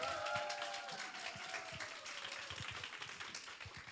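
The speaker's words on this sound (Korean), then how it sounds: "본격적으로 오늘 강의해 주실 EBA 신무한사님을 큰 박수로 모셔보도록 하겠습니다" An audience at a business seminar claps to welcome a lecturer, a faint scattered patter of hands with a brief tonal sound at the start.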